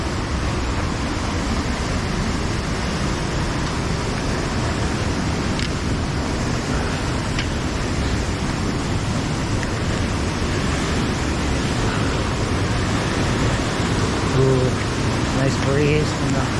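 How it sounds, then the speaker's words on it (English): Waterfalls and a breeze along the Big Pine Creek trail make a continuous, loud, broadband rush that holds even throughout, with no break. "Nice breeze and the mist from the waterfalls"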